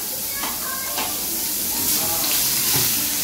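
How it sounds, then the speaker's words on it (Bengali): Onions dropped into hot oil in a pan while cooking a Bengali fish jhal, a steady close sizzle with light stirring clicks, continuous and fairly loud under a voice. "এবার পেঁয়াজটা দিয়ে দেবো।"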